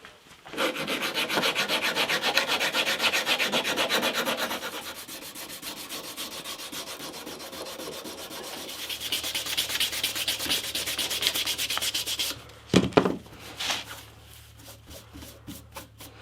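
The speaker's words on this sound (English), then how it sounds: "that needed a bit of crafty sanding on the belt sander to get that to lie flat" A belt sander shapes a wooden part for a community build, giving a continuous close abrasive rasp that swells, eases back, then grows again before stopping with a few knocks and handling noises.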